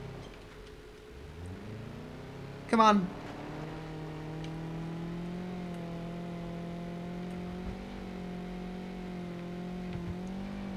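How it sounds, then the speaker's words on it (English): A vehicle engine turns back over and settles into a steady, droning idle-to-rev hum after a brief loud burst, with someone speaking briefly over it. "try and turn the engine off and on"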